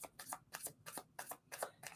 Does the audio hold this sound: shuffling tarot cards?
yes